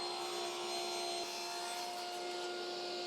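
Table saw with a thin kerf combination blade ripping a wood board to four inches, a steady loud whine and rushing cut noise running the whole time with a slight shift partway through, no talking.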